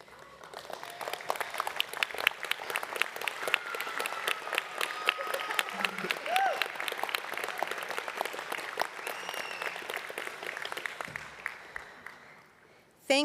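At a 2023 AIB graduation ceremony, graduates applaud their families and friends: a large crowd claps densely and continuously for over ten seconds, heard from a moderate distance, and it cuts off abruptly at the end.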